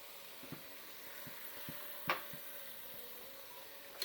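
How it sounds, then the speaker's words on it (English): Cubed potatoes and peas fry with mince for an Anglo-Indian mince and dhal, a quiet, low sizzle with scattered light scrapes and one sharper clack of stirring. "You fry the potato and the peas for a couple of minutes before we add the gravy."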